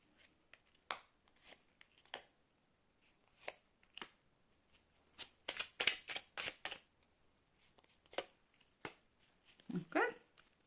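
Tarot cards are drawn and shuffled in a quiet room, giving a series of soft, irregular flicks and rustles, with a denser flurry in the middle and a few faint, brief vocal sounds near the end.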